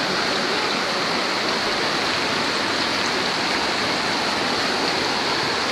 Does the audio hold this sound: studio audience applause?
no